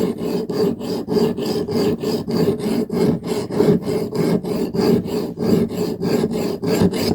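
Steady back-and-forth rasping of a file sharpening the blades of vintage Stanley tin snips, about three strokes per second, close and even throughout with no talk.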